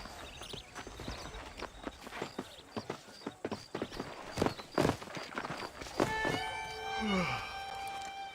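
Hooves clip-clop in a steady trotting rhythm in the video game Red Dead Redemption, close and clear, with a short tonal chime and sliding synth sound near the end.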